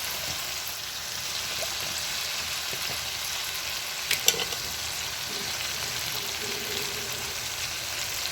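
Hotdog frying in a pan with ketchup being added, a quiet steady sizzle with a brief clatter midway and faint stirring.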